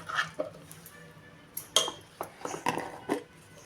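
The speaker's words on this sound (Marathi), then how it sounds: "हे आपण आता पहिल्याच बरणीत भरून घेऊया." Instant crushed lemon pickle, cooked in a pressure cooker, spooned into a jar, with close clinks and scrapes of a spoon against the container in short irregular bursts.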